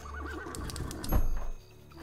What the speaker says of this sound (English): That guy has a horse though